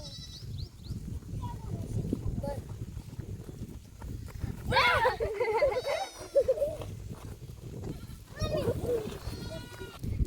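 Village goats tethered on ropes give several loud wavering bleats, one near the middle and more toward the end, over a background of rustling and low outdoor noise, with someone speaking at times.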